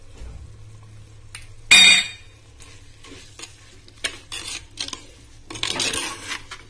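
Pulicha keerai greens are stirred in a clay pot with a spoon, giving a loud clattering scrape early on, then several irregular scraping and knocking strokes that grow busier toward the end, close up with no talking.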